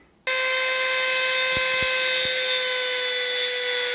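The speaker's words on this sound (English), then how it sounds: "a diamond abrasive wheel on a Dremel tool will work just fine" A Dremel tool fitted with a diamond abrasive wheel grinds a tungsten rod, starting abruptly into a loud, steady high-pitched whine that holds for several seconds, with a few brief low knocks partway through.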